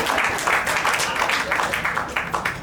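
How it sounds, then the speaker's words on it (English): Retirees in a crowd at an event in Brockton clap together in a dense, fairly loud burst of applause lasting a few seconds, with faint voices mixed in. "anyone who's a retiree can clap at that"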